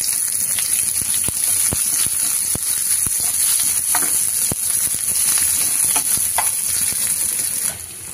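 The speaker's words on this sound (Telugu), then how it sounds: "అదే ప్యాన్లో కొద్దిగా ఆయిల్ తీసుకొని ఉల్లిపాయలు వేసుకొని ఫ్రై చేసుకోవాలి." Steady crackling sizzle of onions frying in a little oil in a pan, with sharp scraping clicks of a utensil stirring throughout; the hiss drops off near the end.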